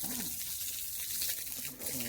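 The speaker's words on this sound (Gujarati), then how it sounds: "આવા દઉં પાણી." Water poured onto construction mortar while a brick wall is being built, giving a steady close splashing gush throughout the short stretch.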